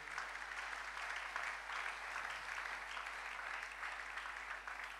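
A church congregation claps steadily during a Sunday service, a sustained, even wash of applause from many hands at moderate distance, with no talk over it.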